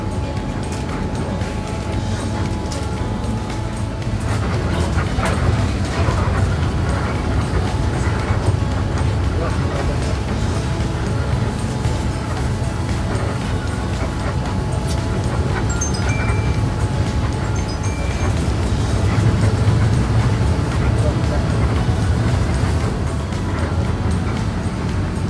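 Inside a Pahala Kencana coach on the Bandung–Surabaya toll road, a steady low engine and road drone fills the cabin at an even, continuous level.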